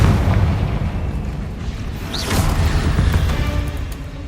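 A fiery Confringo blast spell from Hogwarts Legacy erupts over a dense, rumbling low roar, with a sharp crackling burst in the middle amid ongoing combat noise.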